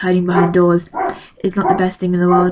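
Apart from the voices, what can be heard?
dog barking at the doorbell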